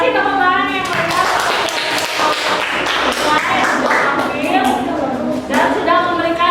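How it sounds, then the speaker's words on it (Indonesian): Audience clapping at a gathering, dense rapid claps of moderate loudness mixed with cheering voices and music-like tones throughout. "kasih tepuk tangan yang meriah"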